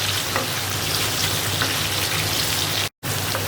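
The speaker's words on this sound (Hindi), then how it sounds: "इसको मुझे लाइट ब्राउन इसको भूनना है" Onion and ginger frying in a pan, a steady, close, dense sizzle and crackle that runs throughout alone, broken only by a brief dropout near the end.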